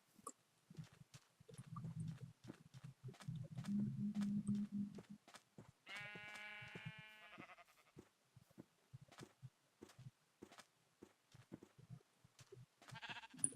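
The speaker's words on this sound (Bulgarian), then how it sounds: "Овце." Sheep in a survival video game bleat in a clear, wavering cry midway through, with quiet clicks, rumbles and other game sounds around it and no talk.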